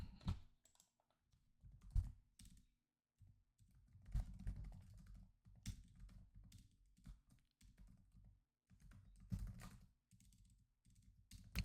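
Typing on a computer keyboard, irregular bursts of close, clicky keystrokes with short pauses between runs, quiet and alone without talk.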